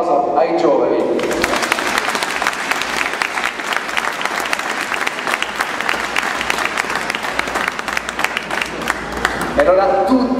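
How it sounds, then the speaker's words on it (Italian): A crowd applauds the young people carrying a statue of the Madonna during an Immaculate Conception procession, dense sustained clapping that rises after a moment of talk and continues strongly with a voice heard at the edges. "Allora un applauso ai giovani."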